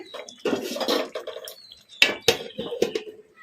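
Several sharp clinks and clatters close by as a plate is set over a pan of chicken fry cooking on a low flame, with softer scraping between the knocks.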